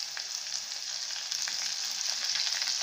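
Onions fry in a pan for tomato chutney, a close, steady sizzling crackle that grows slightly louder partway through, with no voices.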